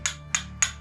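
Three sharp, evenly spaced strikes of a hammer or mallet on stone during carving, each a bright ringing tap over a low steady hum, close and moderately loud.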